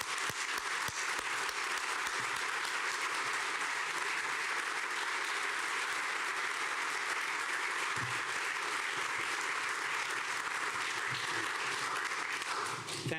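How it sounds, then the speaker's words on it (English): At a stadium announcement event, an audience gives a long, even round of applause for the Rays, a thick wash of clapping that holds steady and fairly distant throughout. "Join me in a round of applause for the Rays."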